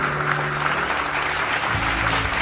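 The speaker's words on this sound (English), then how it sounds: "Let us give him a hand of applause." Crowd applause at an outdoor political meeting in Soufriere honoring Herod Stanislas, a dense, steady clapping with low music or hum running underneath.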